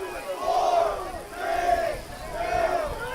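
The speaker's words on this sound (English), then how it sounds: "as the crowd counts it down." Crowd at a high school basketball game counting down, three loud rising chants in an even rhythm from a large, fairly distant gym crowd.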